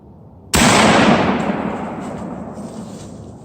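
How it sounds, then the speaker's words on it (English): A single loud .50 caliber muzzleloader shot fired at a whitetail doe: a sharp, close blast after brief quiet, followed by a long rumbling decay that fades slowly over several seconds. "I just shot a doe."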